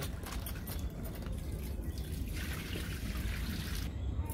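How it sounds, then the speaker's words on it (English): Rice is washed in water for a Guyanese cook-up rice, with continuous trickling, sloshing and dripping up close, a fairly loud liquid wash that carries on for the whole stretch. "we're washing up this rice"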